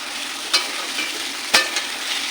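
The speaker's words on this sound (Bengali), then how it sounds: "কালো জিরে ফোড়ন দিয়ে আমি সবজিগুলো দিয়ে দেবো" Vegetables fry in a pan tempered with black cumin seeds, giving a steady soft sizzle broken by two sharp clacks of a spatula stirring against the pan.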